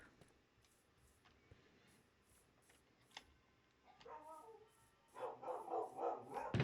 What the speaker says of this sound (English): if you can hear my dogs barking